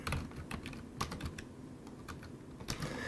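Commands typed on a computer keyboard, with quick irregular bursts of close key clicks and brief pauses between words, steady and moderately quiet throughout.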